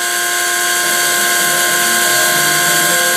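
A GO704 CNC mill cutting a profile in Delrin gives a loud, continuous high-pitched whine with a steady tonal hum from spindle and cutter, unbroken and close for the whole stretch.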